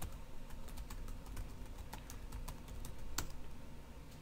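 Someone typing a javac compile command on a computer keyboard: quiet, close, irregular key clicks in a rapid stream with short pauses, and no talking.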